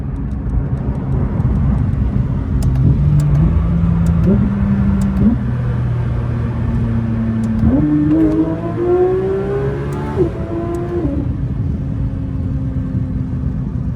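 A Porsche 992 GT3 RS engine revs and climbs in pitch through several gear changes in a tunnel, its roar echoing, loud and close.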